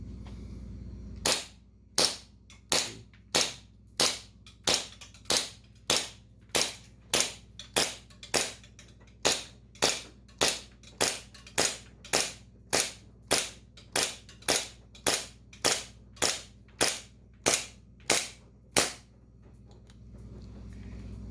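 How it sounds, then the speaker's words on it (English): A KJW KP-05 Hi-Capa airsoft gas pistol firing BBs, a long steady string of about 28 sharp, loud, evenly spaced pops, each roughly two thirds of a second apart, with no talking. "we should be able to shoot 28 rounds to get a perfect match with the Novritsch CO2"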